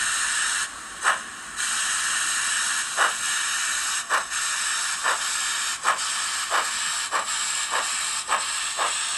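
An OO gauge 2-6-2T model steam locomotive fitted with a Soundtraxx Econami sound decoder hisses steadily and gives rhythmic chuffs that come quicker as it pulls away, faint and alone.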